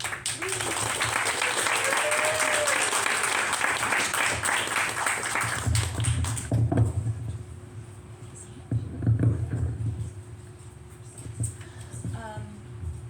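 An audience applauds to welcome Morgan and Emma at a book event. The clapping is steady and dense for about six seconds, then thins out while people start talking.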